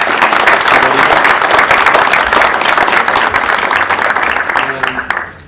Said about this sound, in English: So I would like everyone to give a round of applause for Christian.